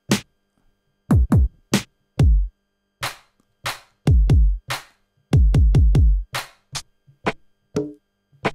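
Built-in bongo samples from music equipment play a loose pattern of sharp, dry hand-drum hits, some in quick pairs and runs, loud and close against silence with no talk.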